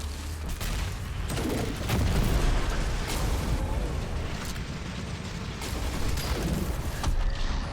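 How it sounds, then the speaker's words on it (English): Rocket explosions during a Destiny 2 boss fight, deep rolling booms layered over continuous gunfire and dense game combat noise, close and loud. "And I'm going to use one more rocket here."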